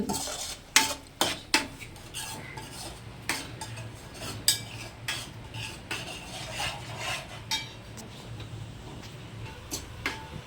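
A ground paste of tomatoes, onions and green chilies fries in a pan, with a faint sizzle under repeated sharp scrapes and clinks of a spoon stirring against the metal, spaced irregularly across the stretch.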